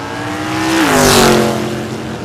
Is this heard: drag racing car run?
yes